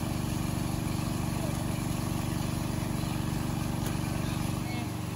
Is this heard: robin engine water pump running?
yes